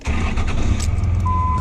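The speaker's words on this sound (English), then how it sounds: "we're going to go ahead and fire this truck up" A manual pickup truck's engine is started with the clutch held in. It cranks and catches into a loud, rumbling idle at close range, with a brief high tone toward the end.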